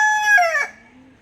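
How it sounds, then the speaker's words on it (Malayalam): A rooster gives a single loud crow nearby, a bright, rising and falling call lasting under a second before trailing off into quiet. "അപ്പോൾ നമ്മളെ പൂവൻകോഴി ഉഷാറായിട്ടൊന്ന് കൂവിയിട്ടുണ്ട്."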